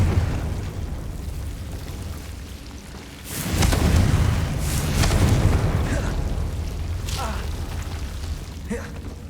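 A Confringo fire spell exploding in Hogwarts Legacy: a sudden loud, rumbling blast after a few seconds of low background, then fading crackles and smaller bursts, with a voice talking around it.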